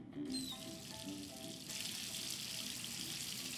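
A bath fills with water from a tap in the video game Life is Strange 2: a steady, rushing stream that grows fuller partway through, heard alone with faint tonal game sounds at the start.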